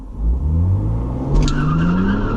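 A Lamborghini launches hard from a standstill: a loud engine roar climbs in pitch while the tires squeal and skid, heard close with no talk.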